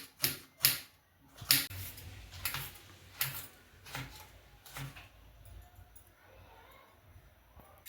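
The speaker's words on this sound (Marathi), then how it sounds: "आता कांदा चिरून घ्यायचा, एकदम बारीक चिरून घ्यायचा कांदा" Sharp knife chops as an onion is finely diced on a board: a few loud, widely spaced cuts at first, then quicker, lighter taps that fade toward the end.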